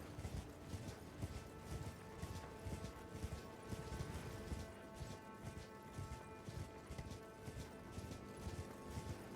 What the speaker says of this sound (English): Fight him on the horse.